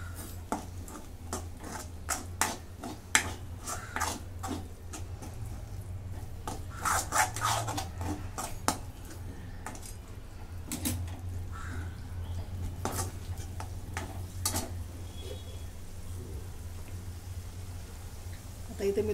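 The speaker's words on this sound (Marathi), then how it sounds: "पुन्हा एकदा याला परतून घेते." A spoon stirs and scrapes green peas curry with yogurt in a pan, with soft irregular rubbing and clinking strokes over a low steady hum, faint and close.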